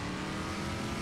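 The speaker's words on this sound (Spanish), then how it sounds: "Que tenemos un jeep. Un todoterreno." Steady engine drone of a jeep off-road vehicle in the ranch-building video game Ranch Simulator, a continuous dense rumble held at even loudness for about a second with no voices.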